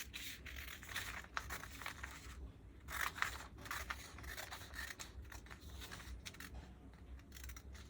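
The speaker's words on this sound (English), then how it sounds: "We'll cut this skirt open, the back of the skirt." Scissors cut open the back of a paper skirt on a paper dress craft, steady close snipping and crinkling paper throughout, with no talk.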